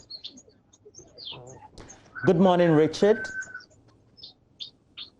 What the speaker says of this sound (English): I could hear some birds chirping in there